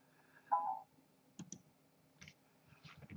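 A computer mouse gives a handful of faint, sharp clicks, isolated and close, spaced irregularly across a quiet background with no talk.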